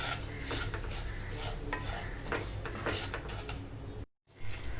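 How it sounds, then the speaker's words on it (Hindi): Broken wheat daliya being dry-roasted in a pan and stirred, a steady close scraping and rasping of grains against metal that runs continuously, then cuts out briefly near the end before resuming. "सबसे पहले मैं यहाँ पे इसको अच्छे से भून लूँगी जब तक ये हल्का गुलाबी रंग का ना हो जाए।"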